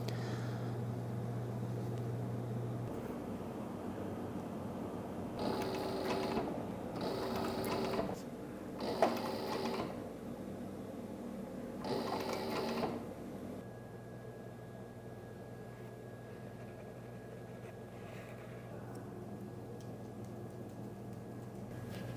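A sewing machine stitching a laser-cut badge onto a leather bag, running in several short bursts of a few seconds each over a low workshop hum, then stopping.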